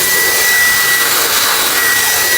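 A Dyson V10 Cyclone Absolute cordless vacuum cleaner running on maximum suction, a loud, steady, high-pitched whine with airy roar, close and unbroken.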